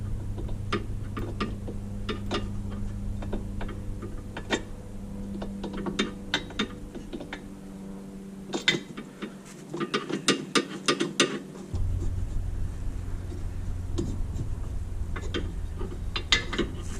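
A socket ratchet clicks in bursts of fast ticking on the rear wheel bearing bolts of a 2003-2006 Mini Cooper S, steady pawl chatter over a low hum with short pauses, close and alone without speech.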